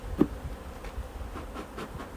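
A faint, steady hum of buzzing bees during a hive inspection carries on throughout, soft and close, with no voices over it.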